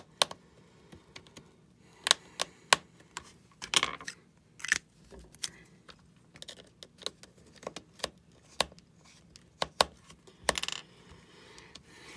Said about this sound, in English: Now we screw the 2 Phillips screws into like this.